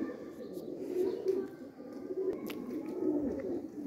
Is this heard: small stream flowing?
no